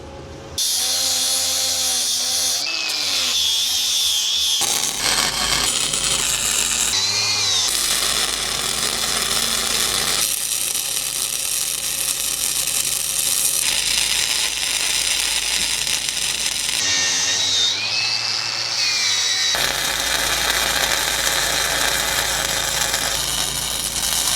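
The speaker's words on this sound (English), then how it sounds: "I need to sand this weld" A power sander grinds down a weld on a trailer tongue brace in long, loud, high-pitched runs. It pauses and spins up again several times, its pitch rising and falling with the load.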